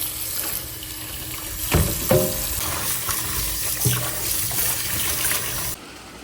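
Tap water running while fresh-picked spinach is washed, a steady splashing stream with a few louder knocks and sloshes, close by, then stopping abruptly near the end, with no talking.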